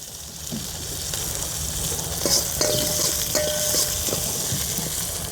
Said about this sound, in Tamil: பூண்டு நல்லா வதங்கட்டும்